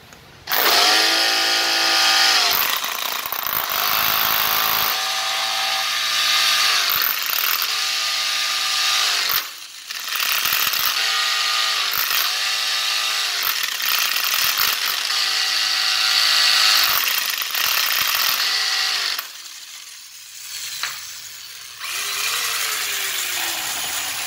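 A cordless Japanese-import hammer drill runs in loud, close bursts, its motor whine overlaid with rapid hammering, stopping and restarting several times with short pauses between, and no talking.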